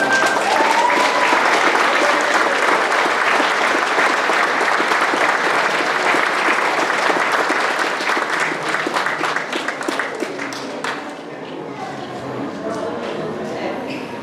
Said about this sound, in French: Un moment d'applaudissement pour Madame.